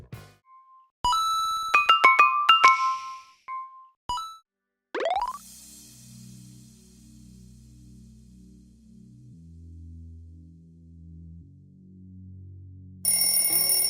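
A sequence of bright electronic chimes and tonal plops, then a sustained low synth bed and a final bright burst, forming the Oreo audio logo jingle; clean and close with no voices.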